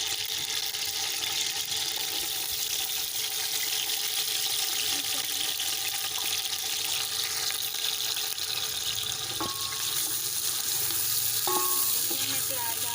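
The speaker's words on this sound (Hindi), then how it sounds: "ये देखिए, हमारा घी जो है वो गर्म हो गया है। इसमें हम प्याज डाल देंगे।" Onions frying in hot ghee give a steady, dense sizzle that runs close and loud throughout, with a few sharp clicks near the end.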